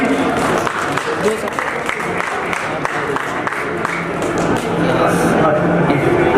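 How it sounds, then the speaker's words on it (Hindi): Guests at a railway retirement ceremony clap steadily, a loud continuous wash of hands from a nearby crowd with chatter and voices running through it. "जोरदार तालियां जी।"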